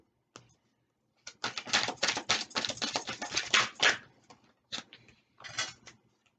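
Tarot cards shuffled by hand in a quick, dense burst of riffling taps, pausing, then a few shorter flurries close up, with no talking.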